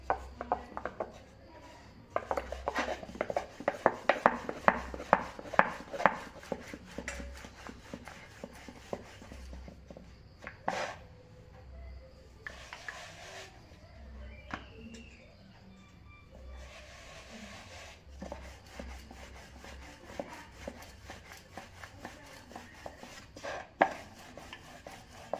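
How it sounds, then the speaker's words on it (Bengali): A wooden rolling pin rolls out roti dough on a board, giving soft repeated rubbing and knocking strokes, loudest in a busy early stretch and then sparser and fainter over a quiet kitchen background. "আমি একটা রুটি বেলে নিয়েছি"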